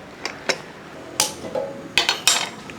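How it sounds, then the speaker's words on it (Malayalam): Metal pressure cooker and pot handled in a home kitchen while cooking pineapple sweet curry, giving a few sharp clanks and clinks spaced irregularly, close and fairly quiet. "ഇത് ഒന്ന് മൂടി വെക്കട്ടെ"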